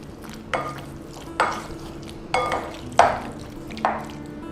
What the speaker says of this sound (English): Then I'm going to mash the raspberries